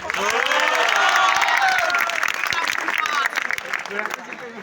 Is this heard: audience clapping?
yes